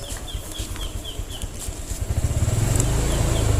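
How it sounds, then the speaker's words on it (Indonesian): A Honda Vario 125 scooter engine sputters unevenly at first, then revs up with the throttle into a steady, louder pulsing drone close by, with a faint chirping beep repeating in the background. "ini udah puter gasnya, tapi dia nggak langsung jalan"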